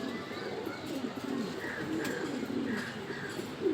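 A female racing pigeon coos softly nearby, giving low, rolling calls over a quiet, steady background.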